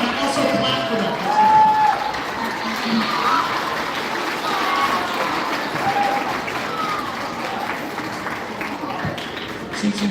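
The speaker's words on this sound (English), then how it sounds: "And also clap for them." Audience applause and cheering at a children's band concert, a dense, steady wash of clapping from a crowd that stays fairly even for about ten seconds, with voices mixed in.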